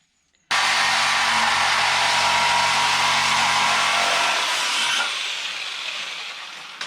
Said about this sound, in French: Vous me demandez peut-être pourquoi j'utilise une scie sauteuse et non pas une disqueuse